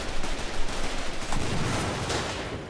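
Dense bursts of gunfire in a fast multiplayer shooter video game, a continuous loud rattle of rapid shots with almost no pause, heard alone without talk.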